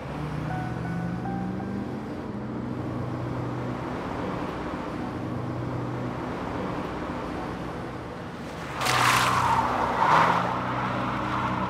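A car drives past, a steady low road rumble and hiss rising to a louder whoosh near the end, with no talk over it.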